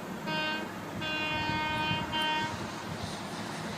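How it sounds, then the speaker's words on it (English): A train passes, sounding several long, loud horn blasts over a steady rolling rumble, with no one speaking. "This is the sound of a train."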